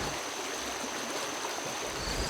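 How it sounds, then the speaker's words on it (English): Cedar Creek, a stream flowing into the North Fork of the Shenandoah River in Virginia, bubbles and rushes in a steady, continuous broadband wash of water, close and even, with no voices. "a stream called Cedar Creek bubbles into the North Fork of the Shenandoah River"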